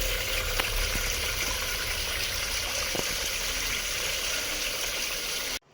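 A water pump motor runs in a balcony hydroponic tower, giving a steady gushing, trickling wash of circulating water with no talk, cutting off abruptly near the end.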